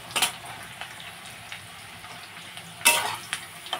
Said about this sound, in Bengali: আলুটাকেও এখন আমি পেঁয়াজের সাথে একটু ভেজে